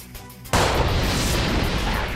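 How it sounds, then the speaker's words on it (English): Gunfire from a gun in the Seduce Me visual novel game bursts in suddenly after a quiet moment, then holds as a loud, dense, continuous roar of shots that lasts to the end with no pause. "Malik pried himself up from the wall and began to fire hot bullets at Sam."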